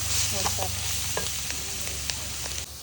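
Mushrooms with chilli powder and spices frying in a pan, a steady sizzle with several quick clinks and scrapes of stirring.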